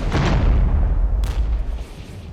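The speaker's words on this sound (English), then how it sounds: "Let's take the M109s and shoot at this." Self-propelled M109 howitzers firing in the strategy game Regiments: a heavy low booming rumble rolls on throughout, with a sharper crack-like burst about midway.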